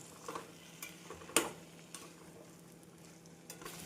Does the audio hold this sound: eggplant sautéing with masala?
yes